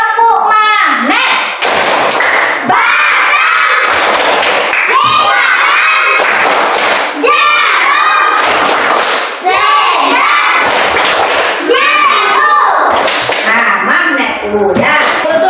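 Classroom of children doing the 'tepuk magnet' clapping chant, loud rhythmic group claps mixed with shouted sung voices, close and energetic throughout.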